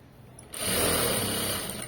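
Sewing machine stitching piping onto cloth, a steady continuous mechanical whir that starts abruptly after a brief quiet moment and runs evenly to the end.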